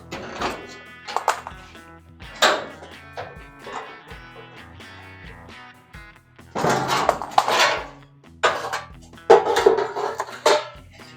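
Sheet-metal clanks, thunks and rattles ring out in irregular bursts as an inner tail pan is worked loose from a 1937 Ford coupe, some hits close and loud, others lighter taps, with no talking.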